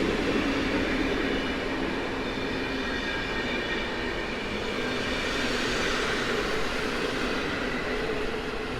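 A train hauled by EP07 locomotive 1039 rolls through Warszawa Zachodnia station at night, a loud, continuous roar of wheels on rail with a faint metallic squeal, close and unbroken throughout.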